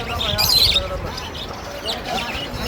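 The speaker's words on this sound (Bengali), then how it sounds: "এই যে অনেক সুন্দর সুন্দর পাখি হয়েছে এই হাটে।" Caged birds, including yellow and green ones, chirping at an outdoor bird market, with short high tweets over crowd noise and talk close by.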